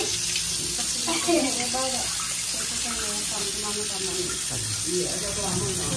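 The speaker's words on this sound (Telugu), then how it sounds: "సో ఇప్పుడు చికెన్ అయితే కడుగుతున్నాము." Raw chicken being washed under a running tap for biryani, a steady gushing splash of water into a sink with the pieces being rubbed and moved, continuous and close, with faint voices underneath.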